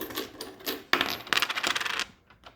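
Coins from a piggy bank clatter and jingle as they drop and are poured out, a run of bright metallic clinks with a sharper burst near the middle, close and fairly loud with no voices.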